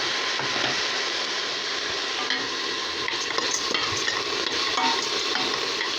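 Close-up sizzling as green lentils and rice are stirred into frying onion, a spoon scraping through the contents, steady frying throughout.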